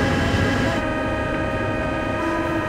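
A Paris metro train rumbles loudly and steadily in a station, with rail noise and a sustained high tone throughout.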